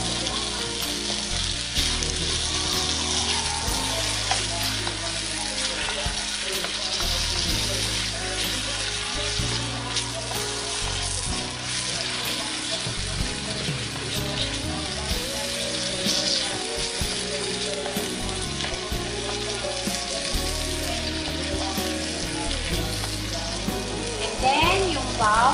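Onions and tomatoes fry in a hot pan, a steady, close sizzle with crackling that runs unbroken throughout.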